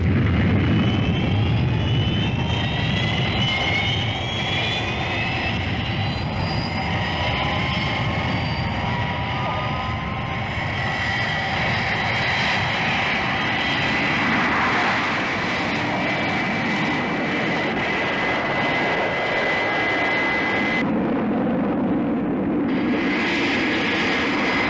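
Fireflash jet airliner taking off at full power, a steady loud roaring jet engine with high whining tones sustained throughout, briefly dipping near the end.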